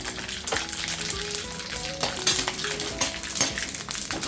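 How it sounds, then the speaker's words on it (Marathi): Mace, about thirty grams, frying in hot oil for a red chilli spice masala, giving a steady crackling sizzle with scattered clinks of a metal spoon against the pan throughout. "जावित्री तीस ग्रॅम मायपत्री तीस ग्रॅम तळून घेते"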